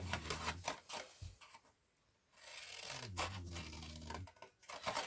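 A utility knife cuts through a thin wooden crate slat in short rough rasping strokes, close and fairly loud, with a quiet pause midway before the cutting resumes.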